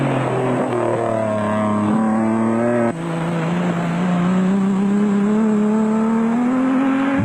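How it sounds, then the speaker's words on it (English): Nissan Hardbody off-road race truck driven hard at the 2003 Mafikeng Off Road Race in South Africa, engine loud and close with steady high revs, a brief gear-change dip partway, then rising pitch as it accelerates. "Alfie Cox and Henny Tersteger maintained a fast but cautious pace in the Arnold Schatz Cars Nissan Hardbody."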